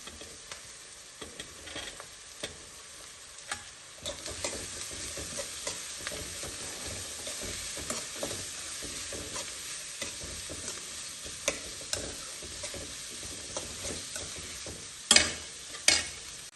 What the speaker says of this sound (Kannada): ಈಗ ಬೀನ್ಸು ಕ್ಯಾರೆಟು ಸ್ವಲ್ಪ ಫ್ರೈ ಆಗಿದೆ.